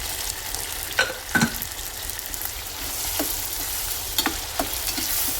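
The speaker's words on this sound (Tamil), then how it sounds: "நல்லா தக்காளியை நல்லா வதக்கணும். வதங்குறதுக்கு கொஞ்சம் உப்பு போட போகிறோம்." Tomatoes with salt sauté in a pan for a Tamil dried-fish curry, a constant close sizzle broken by a few sharp scrapes and clicks of stirring, with no voices.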